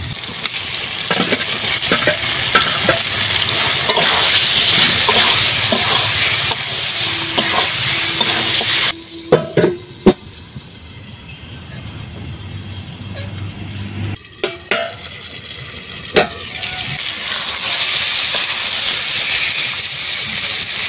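Pangas fish, coated in salt and turmeric, added to oil-released spice paste in a pan, loud continuous sizzling and frying with stirring scrapes and brief clatters, the hiss dropping then returning mid-way.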